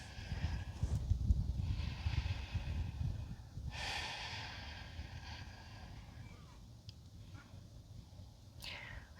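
Deep, audible breaths are drawn in and let out during a yoga forward fold on a mountain top, close and breathy over a steady wind-like rumble, with no talking.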